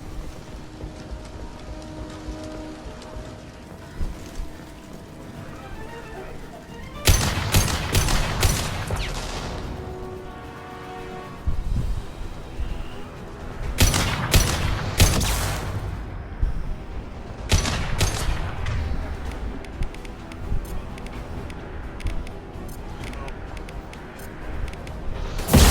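Bursts of rapid gunfire with incendiary ammo ring out in the Mass Effect 2 video game, loud volleys separated by quieter stretches of game ambience and music.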